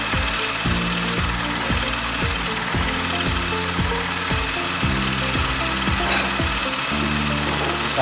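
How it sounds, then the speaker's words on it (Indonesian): Electric drill bores a hole through an iron pipe, a steady loud grinding whine with a rapid repeating ratchet-like clatter running throughout, no voices. "usahakan saat pengeboran mata bornya lurus agar tidak patah"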